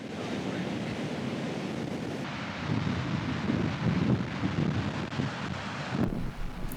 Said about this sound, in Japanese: 確かにこの日の風は強く、カメラを構えて立っているだけで体が揺らされてしまうような強さでした